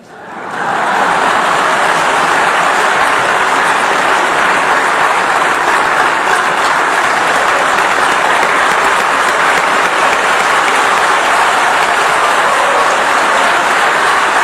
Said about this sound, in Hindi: और आपको और तालियां बजानी पड़ेगी।